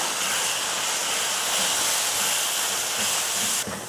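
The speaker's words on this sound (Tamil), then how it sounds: "இந்த மாதிரி எண்ணெயில் அந்த தக்காளி கூட சேர்த்து நல்லா இந்த மாதிரி வதக்கி விட்டணும்" Tomatoes with chili and coriander powders sizzle and hiss steadily in hot oil while being sautéed for a lunch dish, a dense close frying sound with no talking.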